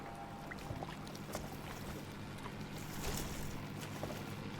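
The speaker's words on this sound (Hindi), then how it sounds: "मुझे इंजन की आवाज सुनाई दे रही है।" A Japanese boat's engine drones low and steady beneath a wash of water and wind noise, fairly faint and continuous, with occasional splashes and knocks.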